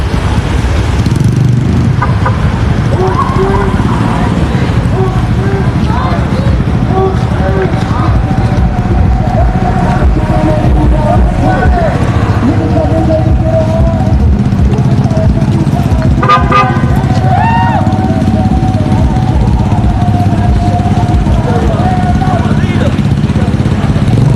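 Cars move steadily along a busy city street during a street march, with repeated car horns honking in short toots and longer blasts, clip-clopping hooves mixed in, and people talking and shouting throughout.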